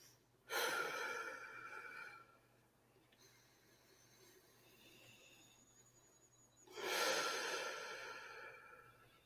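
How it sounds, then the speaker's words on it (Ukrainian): Deep diaphragmatic breathing during a guided exercise: a long, strong inhale or exhale at the start, a quieter stretch in the middle, then another loud breath near the end, close and with no talk. "Повертайся до діафрагмального дихання ще 4-5"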